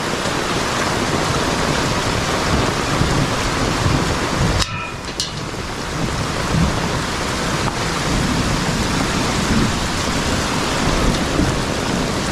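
Heavy tropical rain pours down during a flash flood in Cheswick, St Thomas, Jamaica, a loud continuous roar with a brief crack or rumble partway through and no voices.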